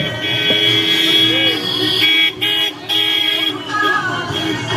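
A vehicle edges through a dense political campaign crowd, with a sustained horn-like tone and traffic noise running under loud crowd chatter and shouting throughout, briefly dipping twice midway.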